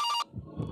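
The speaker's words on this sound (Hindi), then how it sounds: "फोन बज रहा है" A mobile phone ringing with a brief bright electronic tone that cuts off abruptly, followed by faint low handling noises, close by with no speech.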